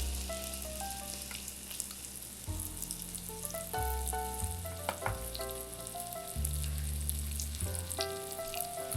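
Low-carb chicken fried steak sizzles steadily in hot oil in a home kitchen, a continuous close frying hiss with a few tonal kitchen sounds and clinks over it.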